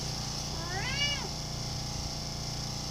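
A single short cat meow, faint and somewhat distant, rising and falling briefly over a steady background hum in a workshop where a 1978 Yamaha DT250 enduro motorcycle is being prepared.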